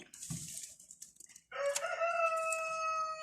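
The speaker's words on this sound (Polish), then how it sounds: "Kogut pieje duży" A rooster crows loudly nearby, one long drawn-out call that follows a brief burst of clucking and rustling.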